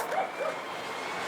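Dogs barking in the distance, a couple of faint short yips near the start, over a steady hum of outdoor background noise.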